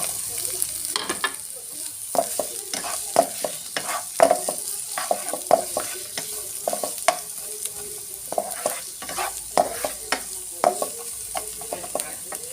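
Onions fry in a pan for chicken adobo, with a continuous close sizzle under frequent, irregular scrapes and taps as a utensil stirs them around.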